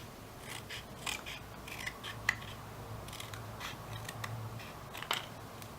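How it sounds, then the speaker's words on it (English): Crisp, close snips of scissors cutting paper pieces for a papercraft Koopa Troopa, a handful of separate sharp cuts spaced irregularly over quiet room tone, no talking. "we're going to cut that one down the middle"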